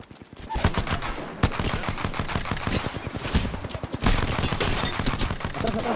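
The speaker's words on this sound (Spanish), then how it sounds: "Son tiros, son tiros." Gunfire in a shooter video game comes in dense, continuous bursts of rapid automatic shots, loud and close, with a few heavier impacts and almost no gaps.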